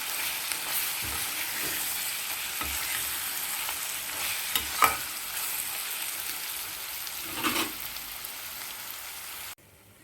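Onions and turmeric frying in a pan for a chicken curry, a steady hiss of sizzling oil with a few scraping stirs and clinks of a spoon, no voices.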